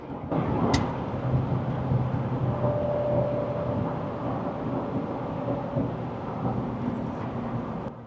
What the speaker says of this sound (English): As you can see, it's quite a noisy car.